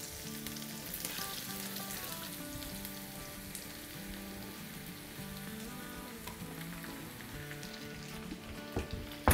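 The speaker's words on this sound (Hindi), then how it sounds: "चले अब इसमें हम डाल देंगे अपनी तोरी," Black zucchini (tori) sizzles steadily in a hot pan, a constant crackling fry heard up close with soft music playing underneath.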